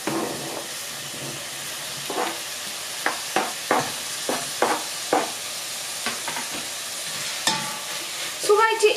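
Chopped leek tipped into a pot and frying for cauliflower soup, a soft steady sizzle with scattered stirring clicks and scrapes close by, growing busier toward the end.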